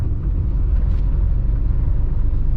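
A car engine drones after a shift from third to fifth gear at about 30 km/h, a loud, steady low rumble and vibration lugging throughout.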